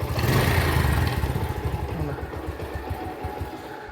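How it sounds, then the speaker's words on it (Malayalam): A rusty, restored motorcycle with a newly replaced silencer runs steadily up close with a deep, throaty rumble that softens slightly after the first second, continuing without pause. "സൈലൻസർ ചേഞ്ച് ചെയ്തപ്പോഴേ വണ്ടിയുടെ സൗണ്ട് വരെ ചേഞ്ച് ആയി"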